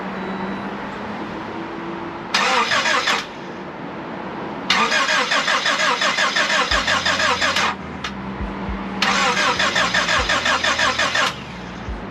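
A rebuilt Honda Civic engine is cranked with the starter in three bursts separated by pauses, each a loud, rapid mechanical churning, close by, without catching into a steady idle.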